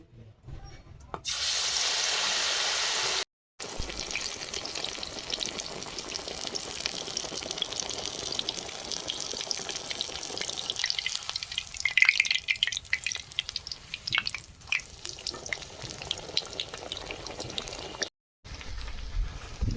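Besan-coated eggplant slices frying in hot oil, a loud continuous hissing sizzle that runs throughout, broken by a couple of short gaps and some brief clattering.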